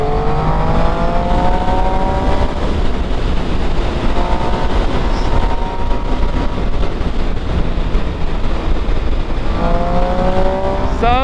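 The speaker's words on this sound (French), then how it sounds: "Ça fait à la fois le sifflement du 3 cylindres." A three-cylinder motorcycle engine revs loudly and close, its rising and falling whine repeating in several surges over steady wind or road roar, with no talk.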